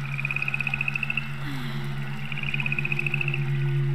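A frog in the game Whispering Willows croaks in quick rhythmic trains of pulses, two runs separated by a pause, over a low steady ambient drone.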